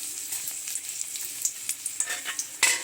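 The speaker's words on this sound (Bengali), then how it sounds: "গরম হওয়ার পরে 2 শুকনো লঙ্কা ফোড়ন দিলাম" Two dried red chillies crackle and sizzle in hot oil as a tempering for dal, a close, steady fry with sharp pops and spits that grow louder toward the end.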